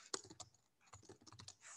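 Quiet, close keystrokes on a computer keyboard during an online call, a short uneven run of soft taps lasting under two seconds with no voices over it.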